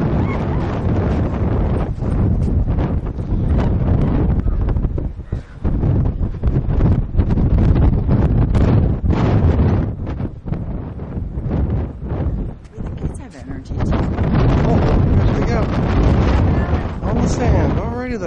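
Strong wind gusts roar continuously across the microphone on a cold November beach at North Wildwood with snow flurries, loud and buffeting throughout.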